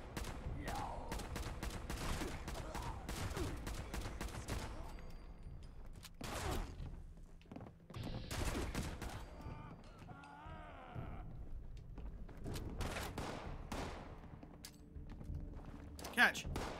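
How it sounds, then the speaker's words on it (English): An assault rifle fires in a video game in dense, rapid bursts that come and go over the clip, fairly loud, with a voice talking through parts of it and other game sounds between volleys. "bring out the assault rifle for a sec."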